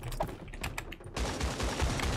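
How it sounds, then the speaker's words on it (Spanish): Gunfire crackles in the Creative Destruction video game, a dense rapid burst of shots that grows louder and more continuous halfway through, with faint clicking before it. "A mí me están disparando aquí de todos lados, Isco"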